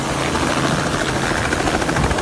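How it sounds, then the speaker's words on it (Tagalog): A helicopter passing overhead above a new road between Lingayen and Binmaley, its steady broadband rotor and engine roar filling the whole clip at a constant loudness with no talk. "Uy, meron ng helicopter, oh."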